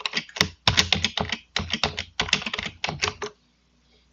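Fingers typing a username on a computer keyboard at a Linux Mint login, a quick close burst of clustered key clicks in uneven rhythm for about three seconds before falling silent.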